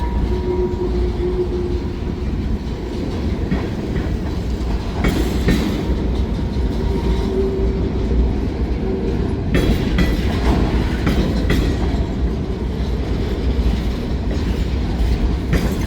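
Long freight train rolling through a town, a loud continuous rumble with steady clickety-clack from the wheels and faint squealing, heard close and alone throughout.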